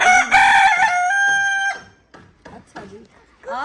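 Chickens in a village yard, a rooster crowing loudly and long up close, followed by a series of shorter clucks and squawks from the flock.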